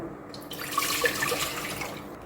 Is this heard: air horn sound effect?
no